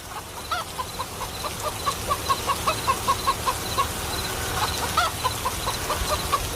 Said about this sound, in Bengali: মুরগিগুলো চেঁচামেচি করছে, মনে হয় খুব খিদে পেয়েছে ওদের